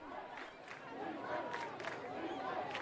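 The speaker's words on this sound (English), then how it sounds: "Trying to get the Archer crowd here into it." Home crowd at a high school football game roars and chants in a steady, sustained wash of many voices from the stands, heard at a distance with no single voice standing out.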